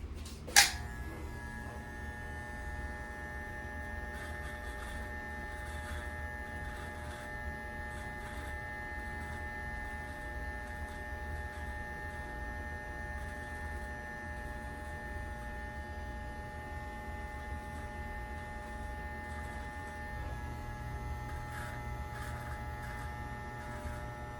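A Wahl Magic Clip hair clipper trims along a beard's bottom neckline, giving a steady, close electric buzz with a bright whine that runs unbroken from a brief click at the start to the end.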